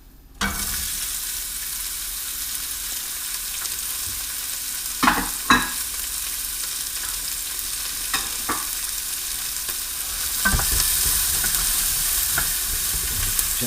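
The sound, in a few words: onions frying in light olive oil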